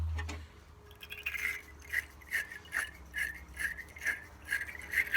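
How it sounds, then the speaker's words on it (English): A battery terminal cleaner brush scrubbing the battery terminals on an old Massey 50 tractor, a steady back-and-forth rasping scrub of about a dozen strokes, close up and with no voices. "Look at that, Princess Auto battery terminal cleaner."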